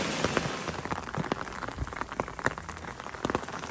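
Steady rain falling and pattering onto surfaces outdoors, dense and close with scattered individual drops tapping throughout.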